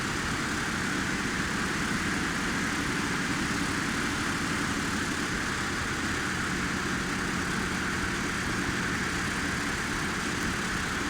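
Twin radial engines of a DC-3 drone steadily on approach in Flight Simulator 2004, a constant broadband cockpit roar with no talk.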